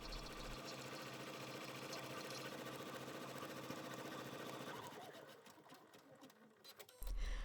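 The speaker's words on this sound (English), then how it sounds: "Stitch the next step of the design, which is a tack down stitch that's going to hold that front fabric in place." An embroidery machine stitches a tack-down outline to hold front fabric on a tooth pillow in the hoop, a fast, steady mechanical whir with rapid needle ticks that slows and stops near the end before a brief clunk.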